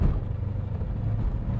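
Deep, steady rumble from the exhaust of a 1971 Chevrolet Corvette, a low throbbing burble held at a constant level, close by and without speech.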